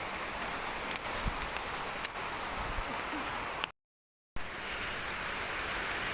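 Steady rain hisses through a teak forest near Widuri waterfall in Grobogan, Central Java, with occasional drops and rustles, briefly cutting out to silence before resuming.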